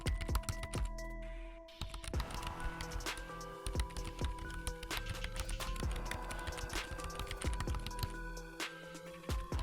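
Fingers type on a computer keyboard nearby in quick, uneven bursts of clicks and taps with brief pauses, and no voices.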